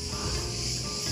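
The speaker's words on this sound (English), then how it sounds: "Listen to the cicadas." Cicadas sing in Crete in summer heat, a continuous bright hiss-like buzz that holds steady for a brief moment with no voices over it.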